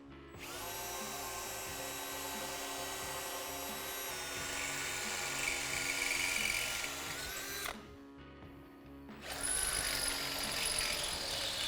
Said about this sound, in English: mark this upper hole, and then drill it out